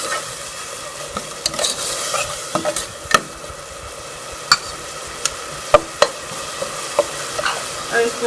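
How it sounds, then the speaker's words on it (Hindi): Tomatoes and green chillies stir-fry in a pan, a constant low sizzle punctuated by sharp, irregular clicks and scrapes of a spoon against the metal. "इसके साथ ही ये टमाटर और ये हरी मिर्चें शामिल कर लेंगे और इसको मैं थोड़ी देर भून लूँगी।"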